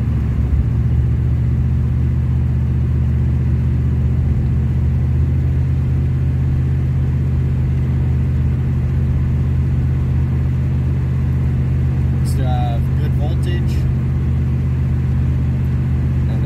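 A rotten 1977 Pontiac Trans Am cruising at about 35 mph gives a steady, loud low rumble and road drone throughout, with a short burst of rattling clicks near the end and no talking.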